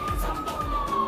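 A police car siren holds a steady, shrill electronic tone that barely shifts in pitch, set against a muffled background with soft low thumps. No speech is heard.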